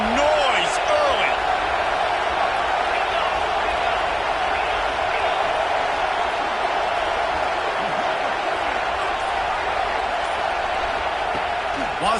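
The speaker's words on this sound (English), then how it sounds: "This crowd bringing the energy and noise early" A stadium crowd in College Football 26 roars as a steady, dense wash of noise at a Texas at LSU game, loud and unbroken throughout.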